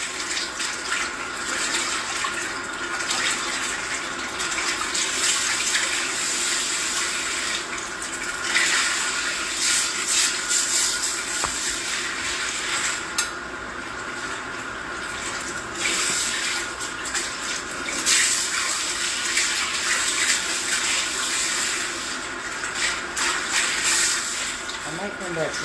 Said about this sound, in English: making sure the water runs clear